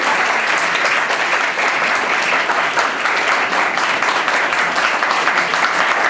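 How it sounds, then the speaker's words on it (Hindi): An audience claps loudly and steadily in honour of parents at a spiritual dedication ceremony at Chanakya Place, the dense applause holding at full strength from start to finish. "भाई सब मिलकर के इनको बहुत जोर से सम्मान में ताली बजाइए।"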